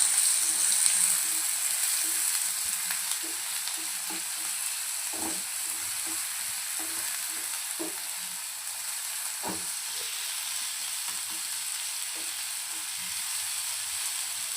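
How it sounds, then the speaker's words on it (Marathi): Green chilies and finely chopped onions frying in cumin for a Marathi mutton keema, a steady soft sizzle with occasional stirring knocks, close and alone with no talk. "हिरवी मिरची ॲड करूया सोबतच छान बारीक चॉप केलेले दोन बारीक बारीक कांदे आपण यामध्ये ॲड करूया"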